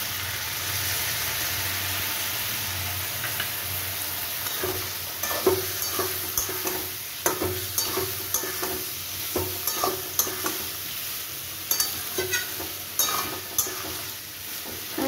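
Potato and pointed gourd curry with coconut and milk sautéing in a pan, a steady sizzle under repeated spoon-stirring scrapes and knocks that come in an uneven rhythm through the second half.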